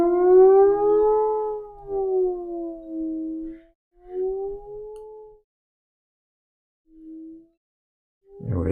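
Absynth 5 synthesizer patch run through effect page variations, producing a howling, siren-like tone that glides down in pitch and fades. Shorter swelling phrases and a soft low note follow, ending in a brief noisy burst.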